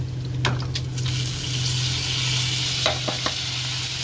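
Red lentils tipped into onion, garlic and chili frying in hot oil in a pan: a constant bright sizzle with a low hum underneath, broken by a few sharp crackles and spatters as the lentils land and get stirred.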